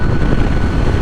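Steady, loud rushing wind buffets the microphone while riding a 2020 Kawasaki Z900 motorcycle, a dense, continuous roar with no voices.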